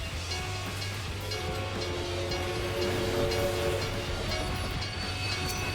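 A train rolling by in the online game Final Fantasy XIV, a continuous rumbling rail clatter with sustained horn-like tones, close and steady with no talk.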